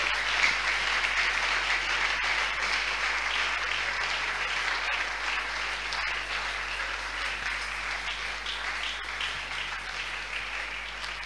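A church congregation gathered for prayer applauds and cheers loudly for the Lord, a dense, sustained wash of clapping and voices that holds steady at full strength for several seconds without pause.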